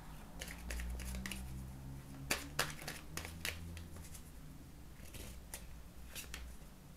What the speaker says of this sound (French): je vais retirer 3 cartes.